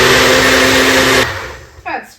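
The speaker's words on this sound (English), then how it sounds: "now we're going to put our lid on our blender and whirl it till it gets mixed nicely" A countertop blender whirls low-carb blueberry muffin batter, a loud steady whir that cuts off abruptly, followed by a brief bit of speech.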